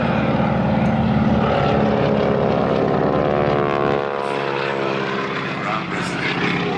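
A propeller-driven wingwalking aircraft flies past at an air festival, its loud, droning engine note holding strong and then shifting in pitch as it passes, with crowd or commentary voices faintly underneath.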